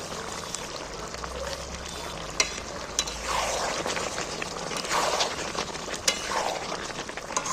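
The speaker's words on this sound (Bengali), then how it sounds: "মশলাটা দিয়ে নাড়াচাড়া করে নিচ্ছি" Chicken stirred with dry-roasted ground spices in a pan, steady sizzling under scraping stir strokes, with a few sharp knocks of the utensil against the pan, close and without speech.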